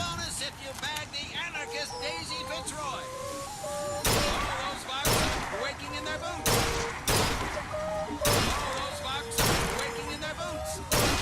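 Rifle fire in Bioshock Infinite, the shots throwing off a lightning-like flash: about seven loud, sharp reports arrive in an uneven sequence over a bed of in-game tones and voices.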